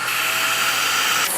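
A Sebo Felix upright vacuum cleaner runs with a steady, loud, close motor whine and airflow hiss that holds level throughout, with a brief shift in pitch near the end and no talking.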